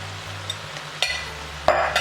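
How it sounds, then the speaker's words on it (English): A spoon stirs beans into a simmering pot of chili with soft scraping swishes, a low steady hum underneath and a couple of sharper clinks against the pot. "And we'll stir those in"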